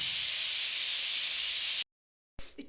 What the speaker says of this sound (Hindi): और मेरे कुकर में सीटी आ रही है